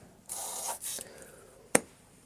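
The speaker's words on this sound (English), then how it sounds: "So it's spraying the paints. It is spraying them, but it's just too hit and miss with it." A paint spray gun that sprays unevenly gives two short, faint hissing bursts, followed by a single sharp mechanical click.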